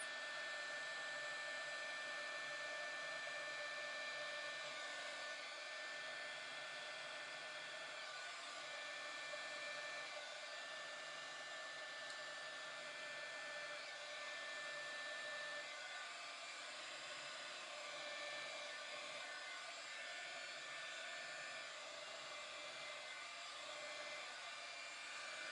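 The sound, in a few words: heat tool blowing on paint on a tumbler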